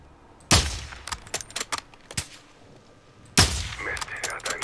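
Gunfire in Call of Duty: Modern Warfare II, with a loud sharp shot and echoing tail near the start, a few scattered cracks and clinks, then a second loud shot late in the clip.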